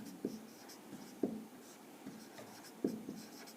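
Handwriting with a pen on paper during an economics lesson, three short scratchy strokes spaced about a second apart, close and quiet with no talk.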